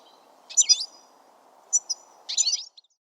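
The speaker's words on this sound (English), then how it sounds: "G is for goldfinch." Goldfinch song: three bright bursts of twittering, warbling notes, clear and fairly close, separated by short pauses over a faint low background hum.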